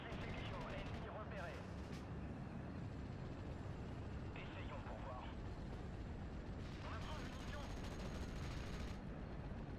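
Gunfire from Steel Division Normandy 44 combat, aimed at a house held by enemy troops in a WWII battle: dense, continuous rumbling fire with crackling bursts, steady and loud throughout, mixed with battle noise.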